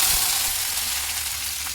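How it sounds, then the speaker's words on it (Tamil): Mustard seeds, chana dal, garlic, dried red chillies and curry leaves sizzle steadily in hot oil in a pan, a loud, close, continuous crackling fry with no voices. "வானல் சூடானதும் தேவையான அளவு எண்ணெய், கடுகு, கடலைப்பருப்பு, பூண்டு, வரமிளகாய், கருவேப்பிலை போட்டு"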